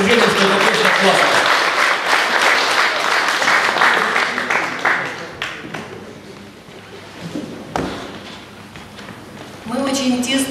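Concert audience applauds loudly and steadily at an evening performance in Kryvyi Rih, the clapping thinning and fading out midway, then swelling again briefly near the end.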